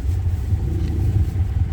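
Car engine rumbling while driving, a steady low, loud drone from inside the vehicle with no clear revving or breaks.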